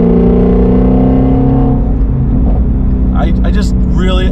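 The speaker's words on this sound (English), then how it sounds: "Burbles on the runoff too are just so addicting" Shelby GT350 exhaust burbling and crackling as the throttle is lifted, a loud engine drone fading into sharp pops and gurgles close by, with someone talking over it.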